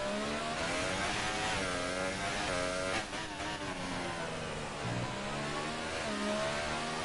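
A racing car engine screams at full throttle in a video game at the USA round in Austin, a loud, continuous high-revving whine that dips briefly with a gear change before climbing again.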